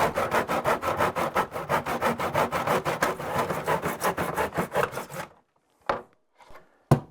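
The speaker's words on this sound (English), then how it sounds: "make sure that the saw is straight up and down, and then you could cut your trim" A hand saw cuts wooden door casing trim in a miter box, giving steady, evenly paced back-and-forth rasping strokes for about five seconds, close and loud, then a few isolated knocks and clatters of wood follow.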